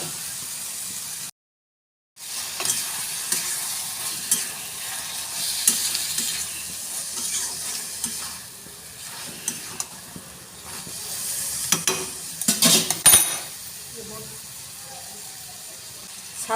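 Prawns sizzle and fry in a pan with taro greens while being stirred, a steady moderate hiss with scraping and clinks, a brief silent gap near the start and sharper stirring noises later.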